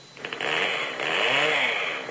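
Chainsaw slicing through a mural, a loud close buzzing roar that revs up and holds steady with a wavering pitch for about two seconds.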